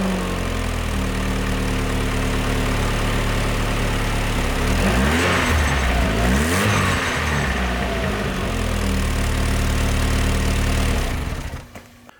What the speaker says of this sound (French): il ne reste plus qu'à essayer de voir si ça fait une salade de soupape en faisant tourner le démarreur